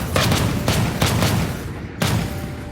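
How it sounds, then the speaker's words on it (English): Several short bursts of rapid fighter jet cannon fire, loud and close, separated by brief pauses over a steady roaring background. "Mark fired his cannon without hesitation."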